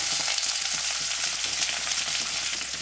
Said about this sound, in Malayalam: ഒരു വലിയ സവോള അതും കുറച്ച് വലിയ മുറിച്ചതാണ് ചേർക്കുന്നത്